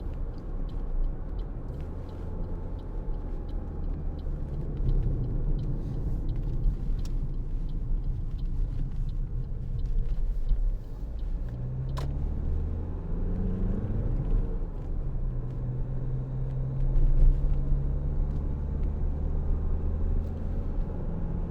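Steady in-cabin road rumble and engine drone from a 2017 Toyota RAV4 2.0 D-4D diesel SUV cruising at 50 mph on cruise control, a continuous low hum with slight swells and no talking.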